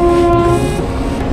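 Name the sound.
train passing overhead on Araku railway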